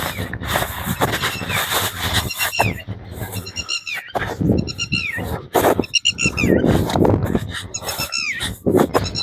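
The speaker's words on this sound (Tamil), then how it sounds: "இந்த பறவை பாருங்க சத்தத்தை பாருங்க பறவையோட சத்தத்தை பாருங்க வித்தியாசமா கத்துது" A bird among strange rock formations gives unusual squeaky, bleating calls in repeated short bursts, fairly close and loud, with gaps between the outbursts.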